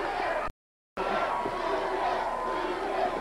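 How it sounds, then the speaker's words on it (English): A wrestling arena crowd at a Houston show chants and roars for Hacksaw Jim Duggan, a dense, continuous wall of massed voices that cuts out to silence for a moment before surging back just as loud. "Listen to this crowd chanting,"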